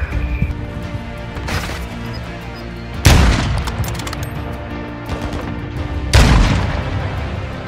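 AC-130 gunship firing in Call of Duty Ground War on Zaya Observatory, two heavy cannon booms a few seconds apart over a background of scattered gunfire and rumble.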